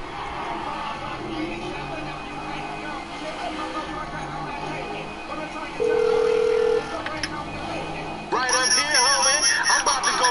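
Telephone ringing inside the video game Grand Theft Auto V, a steady electronic ring tone lasting about a second amid game sounds and music, followed by a burst of busier tones near the end.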